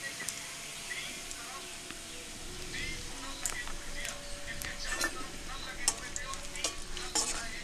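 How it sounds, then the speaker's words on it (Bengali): Tadka of Kashmiri chili powder and crushed fenugreek leaves sizzling in hot oil while being stirred, a steady frying hiss with scattered scraping clinks of a spoon against the pan. "তরকাটা বানিয়ে নিচ্ছি।"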